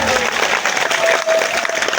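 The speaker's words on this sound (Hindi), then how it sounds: "जोरदार ताली बजाएं मैया के लिए।" Audience at a Devi Purana katha clapping loudly for the goddess Durga, a dense burst of applause from a crowd filling the space, brief and unbroken.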